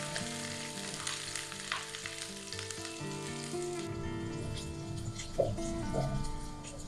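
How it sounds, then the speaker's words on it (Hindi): Ginger and garlic fry in hot oil with whole spices, a steady close sizzle and crackle that grows busier partway through, with a couple of brief utensil knocks and no talking. "अदरक लहसुन को करेंगे लाइट गोल्डन होने तक फ्राई"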